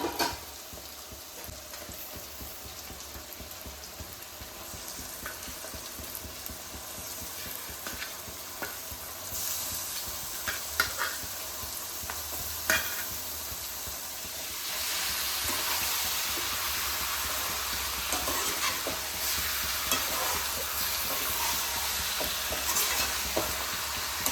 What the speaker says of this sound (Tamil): வெங்காயம் நல்லா வதங்கிடுச்சு. இப்போ நம்ம சிக்கன் போட்டுக்கலாம்.